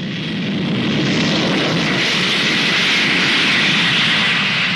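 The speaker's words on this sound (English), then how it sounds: "Concorde was the first passenger aircraft to travel at twice the speed of sound." Concorde, Britain's supersonic jet airliner, roars loudly at Bristol, its jet engines making a dense, sustained roar that swells slightly and holds without a break.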